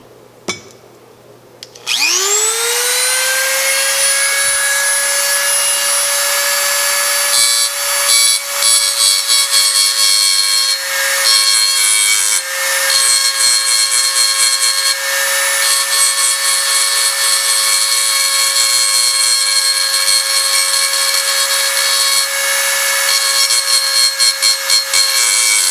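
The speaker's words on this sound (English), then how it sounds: "To remove the bump, I have chosen to use a simple Dremel tool." A Dremel rotary tool grinding a raised bump off a cast iron skillet spins up after a click and holds a loud, steady high-pitched whine throughout, with grinding rasp varying slightly as it bears on the metal.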